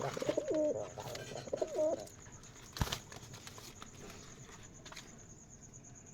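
Rajshahi Giribaz pigeons with heavily feathered feet coo in two close, warbling phrases, and a sharp wing flap or clatter follows amid faint background rustling.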